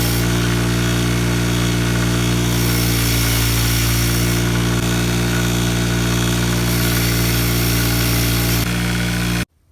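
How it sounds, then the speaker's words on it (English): A wire wheel scours rust off Fender Telecaster Custom hardware, giving a loud, steady motorized whir with a constant humming drone that runs unbroken for nearly ten seconds before cutting off abruptly. "What I like about the wire wheel is it's just quick and easy. Very noisy."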